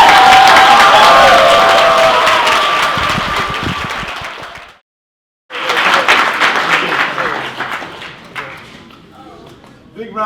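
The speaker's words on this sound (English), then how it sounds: "Big round of applause for King Dre" Crowd at a street community talk event applauding and cheering for King Dre; loud, dense clapping with whoops that drops out abruptly for a moment, then resumes at full strength, with voices mixed in.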